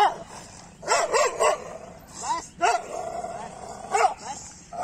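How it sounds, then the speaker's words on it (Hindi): A Doberman and a street dog growl and snarl in a tense standoff, with repeated loud close barks and yips over a low continuous rumble. "ये देखो भाई तो फुल गुर्रा रहा भाई"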